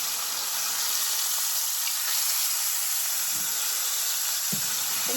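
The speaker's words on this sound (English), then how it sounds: "Since they're brown, so I'll just flip them." Browned pork chops sizzle steadily in a frying pan, a loud continuous hiss with a couple of soft knocks as they are turned.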